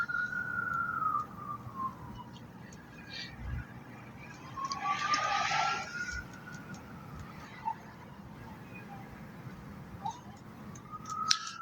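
A distant police siren wails and rises and falls faintly through background street noise, with no voices nearby.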